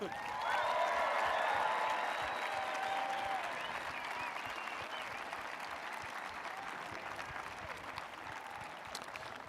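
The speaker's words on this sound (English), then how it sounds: "So one more round of applause." Applause from a sizable crowd at a high school graduation, loudest at the start and gradually tapering off over several seconds.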